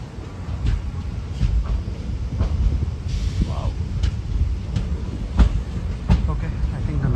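The Chemmozhi Express pulls out of Thanjavur Junction with a continuous low rumble and rhythmic clicks of the wheels on the rails. Voices murmur in the background.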